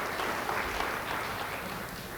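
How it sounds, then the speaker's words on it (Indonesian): A church congregation gives a round of applause during a sermon, continuous, even clapping from a large crowd that stays steady throughout the short stretch. "Beri tepuk tangan bagi dia."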